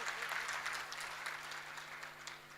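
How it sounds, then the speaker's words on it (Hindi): At a Hariyali Teej festival, an audience claps in a steady, fairly faint wash of applause with scattered sharper claps that lasts the whole moment. "तो एक बार पुनः ताली इनके लिए बजा दीजिए सब लोग"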